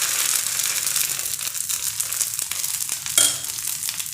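Surnoli batter, a Konkani breakfast pancake batter, hissing and sizzling as it is poured into a hot pan, a steady close broadband crackle with a brief sharper burst near the end, no talking.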